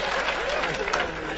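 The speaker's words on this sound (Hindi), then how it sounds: "एक बार ब्रजेश जी के लिए तालियां बजाइए जोरदार" Clapping from an audience for a performer named Brajesh, a brief dense burst of applause from a crowd with no clear voices over it.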